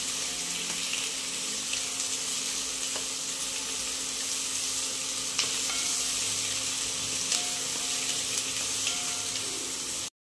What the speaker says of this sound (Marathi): कांदा परतून घेतली चांगला, कांदा जास्त परतवायचा नाही